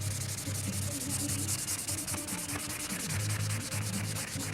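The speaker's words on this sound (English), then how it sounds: "as soon as we hit this with sandpaper, you'll see how quickly this will just show its ugly face" Sandpaper rubbing over silver-painted parts of a Windy U Master 893, a steady close scratchy sanding texture with a continuous low hum running underneath.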